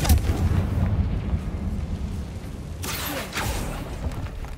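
A Confringo fire spell blast cast inside a tomb in the Hogwarts Legacy video game on PS5, heard as a rumbling, booming explosion with a sharper crackling burst about three seconds in, over a steady low background drone.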